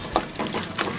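Peanuts frying in white cooking oil in a nonstick pan, a steady broadband sizzle with brief brighter crackles, close and continuous with no talk.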